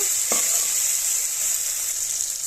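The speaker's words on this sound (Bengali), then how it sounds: "এগুলো দিয়ে আমি টমেটোটা ভালো করে কষিয়ে নেব।" Tomato fries in a pan with turmeric, cumin and coriander powder, a constant close hiss of sizzling oil with one brief stirring clink near the start.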